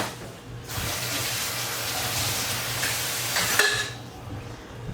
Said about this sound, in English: we're going to add it with the liquid and everything right into the rice